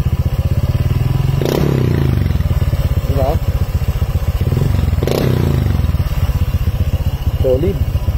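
A motorcycle with a modified loud exhaust pipe revs hard twice with loud, rasping exhaust, idling roughly between bursts, close by and continuous throughout.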